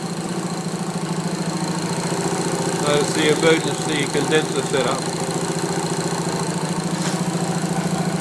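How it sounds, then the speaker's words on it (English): A Honda SS125A motorcycle idles steadily after start-up with an even, close, throbbing beat, and someone speaks briefly over it partway through. "Engine runs really nice."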